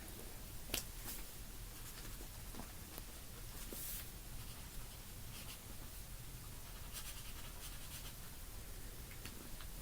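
Faint scratching of a pen on paper, soft and intermittent, in an otherwise quiet room.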